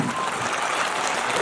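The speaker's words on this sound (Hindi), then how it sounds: "थोड़ी तालियां बढ़ाइएगा एक बार।" A brief, dense wash of clapping from the audience at a patriotic and political poetry recital, steady and loud across the whole moment.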